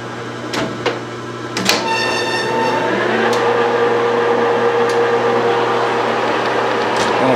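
A machine tool on power feed cuts a steel swivel-jaw vise pin dry, without coolant: a steady mechanical drone with a sustained whine and harmonic tones, preceded by a few sharp knocks as the feed engages.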